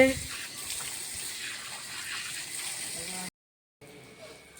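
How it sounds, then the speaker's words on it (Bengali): Tap water gushes steadily while freshly cut pond fish are rinsed, a broad close splash that cuts off abruptly, then resumes more faintly after a brief silence. "আমার বাবা মাছগুলো ভালো করে কেটে এখন ধুয়ে দিচ্ছে।"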